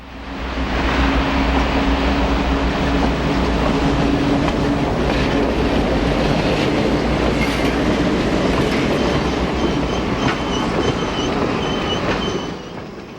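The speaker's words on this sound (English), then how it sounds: "B&O train number 11, the Metropolitan, is about to arrive" B&O train number 11, the Metropolitan, rolls in loud and close with a continuous heavy rumble, rail clatter and wheel squeal, fading slightly at the very end.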